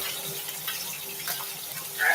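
Water runs from a kitchen sink tap, a steady splashing hiss that stays even and close, swelling slightly at the end, with a voice murmuring faintly underneath.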